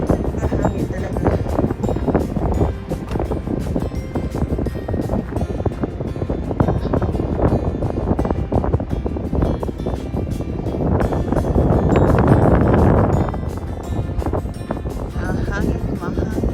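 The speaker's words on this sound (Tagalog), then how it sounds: "Malakas ang hangin." Strong wind at a seaside campsite buffeting the microphone in a continuous loud roar that swells and gusts, with people talking over it.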